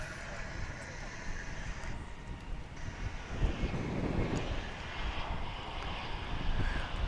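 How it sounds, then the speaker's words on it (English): An American Airlines Airbus A321 airliner arriving from Denver touches down at DFW International Airport, a steady broadband engine roar at moderate distance that swells slightly toward the end. "It's an Airbus A321 about to touch down."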